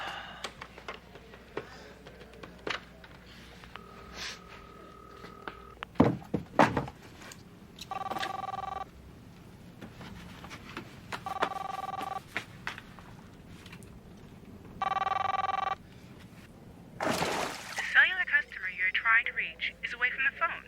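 A call to a car phone in a police car rings several times, heard as repeated bursts of electronic ringing tone through a handset. Dialing beeps, clunks and voices come between the rings.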